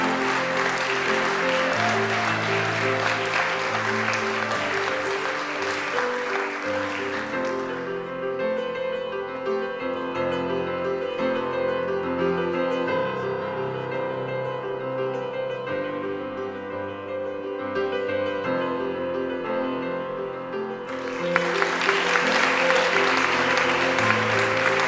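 Applause from an academic anniversary ceremony at a university opens and closes the stretch, with a long middle section of sustained tonal music or organ-like chords between the bursts of clapping.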